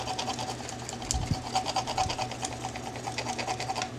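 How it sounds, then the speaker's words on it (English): A small Cricut vinyl craft decal is burnished with quick back-and-forth rubbing strokes, a close, rhythmic scratchy scraping that runs without pause and has no talk over it. "Let's go ahead and just burnish this."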